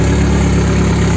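A car engine after a two-step launch with the oil still somewhat cold, sustained loud and close with steady low vibration and no talk over it.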